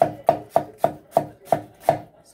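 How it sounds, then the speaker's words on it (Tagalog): Onion is finely chopped with a knife on a board, seven crisp, evenly spaced strokes close by, with no talking. "Pinuhin lang natin din yung sibuyas."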